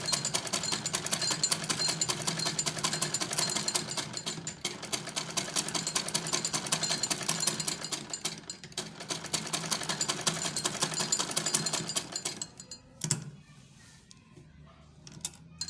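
A sewing machine stitches a zip onto the back of a ladies' kameez, a steady rapid mechanical chatter running loud and close for about twelve seconds before slowing and stopping, with a few faint clicks after.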